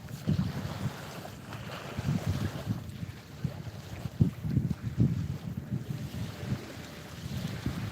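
Noisy water churns and rushes steadily with gusty wind buffeting the microphone, loud and close throughout, with no talk over it.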